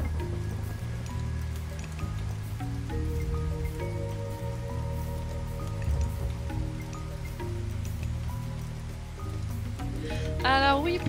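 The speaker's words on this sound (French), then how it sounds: "Allez hop, un petit coup de pluie." Rain power cast in the Age of Mythology strategy game: a steady patter of falling rain spreads across the scene over a continuous musical soundtrack, holding evenly throughout without any talk.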